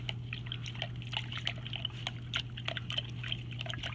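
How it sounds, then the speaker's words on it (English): A paintbrush is swished and scrubbed against the bottom of a water cup, making soft, quick, irregular sloshes and trickles close by over a steady low hum. "you're going to put it in your water cup, and you're going to scrub the bottom of the cup"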